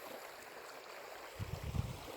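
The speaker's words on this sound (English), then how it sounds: "What about that river, huh?" A river flows steadily outdoors, its broad rushing wash constant throughout, with a few low rumbling thumps near the end that could be handling noise close by.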